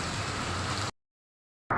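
Heavy rain pouring down steadily as a dense hiss during a motorbike delivery ride, loud and close, cutting out abruptly to silence before briefly returning.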